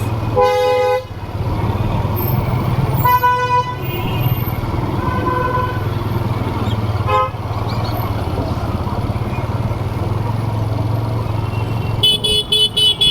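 Congested Kolkata street traffic with a steady loud engine rumble, several sharp car horn toots near the start and middle, and a burst of repeated honking at the end, motorcycles and trucks mixed in.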